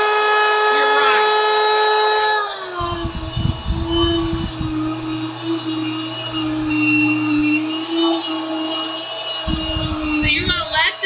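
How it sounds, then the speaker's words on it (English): Wonder Mill electric grain mill grinding rice into flour, a loud, steady high-pitched whine that dips slightly as the grain is added and then holds, with someone speaking briefly over it. "So you're going to let this rice grind up for a little while"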